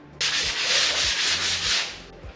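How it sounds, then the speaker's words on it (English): Close, steady rasping of a sanding block worked over dried lightweight blue drywall mud, second coat cured 36 hours, in a garage being turned into a woodshop; continuous strokes with a faint rhythmic pulse, no voices. "so now I just need to sand it all flat"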